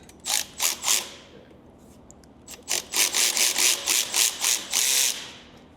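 A ratchet wrench clicking as fasteners are tightened during a HydrosPlus Turbo+ install on a Kubota BX tractor, a quick burst of three strokes, a pause, then a longer run of steady, close ratcheting.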